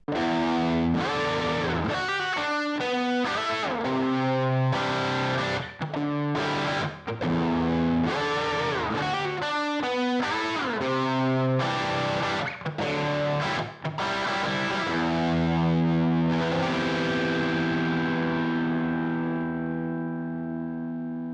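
An electric guitar through a Thermion HeartBreaker overdrive pedal with crunchy distortion plays a run of picked notes and chords, ending on a long ringing chord that fades out.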